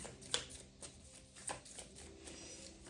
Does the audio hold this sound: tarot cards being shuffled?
yes